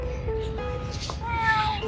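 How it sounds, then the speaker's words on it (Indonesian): A cat on a university campus in Islamabad, Pakistan, gives a few short meows outdoors over steady background noise. The meows sound fairly close. "hey, ada kucing"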